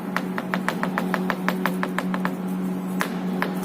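Loose plastic moisture barrier film rattling inside a car door, heard as rapid, evenly spaced tapping that later thins to a few scattered taps. It is close and distinct, with no voices.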